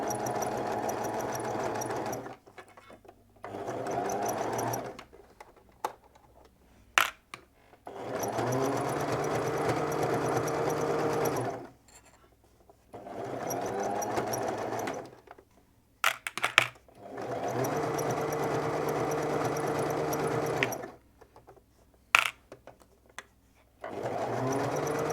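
A sewing machine stitches a straight seam 1.5 cm from a folded edge on a sweatshirt-fabric dress, its motor humming in several long steady runs broken by short pauses and small clicks, with no talking.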